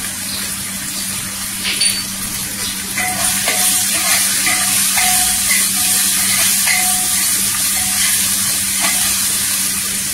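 Coriander leaves hiss and sizzle in hot oil in a home kitchen pan, a steady close frying crackle with faint stirring scrapes and no voices.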